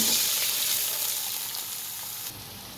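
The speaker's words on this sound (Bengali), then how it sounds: "পেঁয়াজটা এখন ভাজা হয়ে গেছে, এর মধ্যে চাল, ডাল এবং আলু একসাথেই দিয়ে দেব।" Onion frying in a pan with rice, lentils and potato added for a winter-morning khichuri-style dish, giving a steady close sizzle that fades slightly near the end, with no talking.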